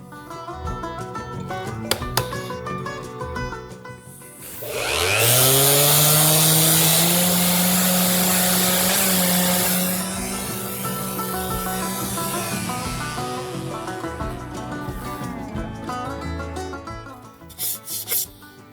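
A loud power sander grinds against wood for several seconds, whining steadily before easing off, surrounded by quieter scraping and handling noises.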